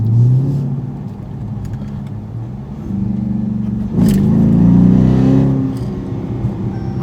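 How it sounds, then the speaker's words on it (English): Dodge Charger Daytona with active exhaust revving hard while stationary, a deep loud rumble that swells into a stronger roar midway and then settles back to a throaty idle. "that active exhaust is unbelievable."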